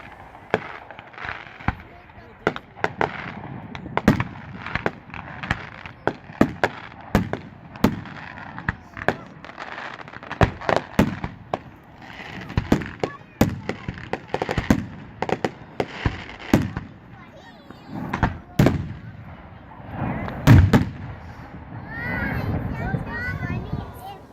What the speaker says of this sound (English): we headed to the local park to watch the 4th of July fireworks